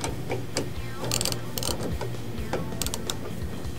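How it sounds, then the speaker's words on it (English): Ratcheting clicks while a latch bracket on a Lazerlite tonneau cover on a Ford F150 is tightened, quick irregular mechanical clicks and creaks in a close, steady run. "Now we can go ahead and tighten down the latch bracket,"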